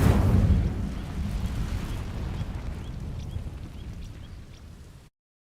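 An Incendio fire spell sets dry vines ablaze in the Hogwarts Legacy video game. A loud burst of roaring flame erupts at once, then a broad crackling whoosh slowly fades over about five seconds, with no voices.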